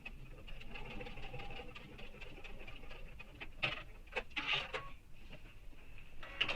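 Sewing machine running a line of basting stitches across backpack straps, a rapid mechanical whir with short bursts and pauses, close and fairly quiet.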